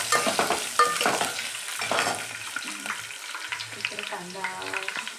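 Onions and chilli fry in a hot pan with a steady sizzle, broken by stirring scrapes and clinks, close and moderately loud.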